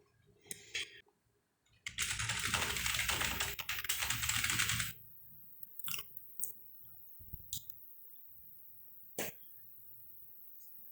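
PS/2 keyboard attached to a homemade Z80 computer being typed on, a dense rattling burst of keystrokes in the middle followed by scattered single key clicks, close and quiet.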